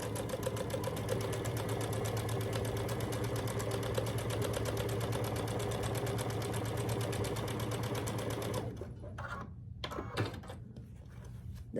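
A sewing machine stitches quilt block pieces together in one continuous, even run of fast rhythmic needle chatter with a low motor hum, then stops near the end, leaving scattered faint handling sounds.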